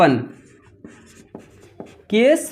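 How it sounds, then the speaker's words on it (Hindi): Maths working is written by hand as a few soft, brief pen or chalk strokes between bursts of a man's speech. "तो यहाँ पर हम लिखेंगे केस"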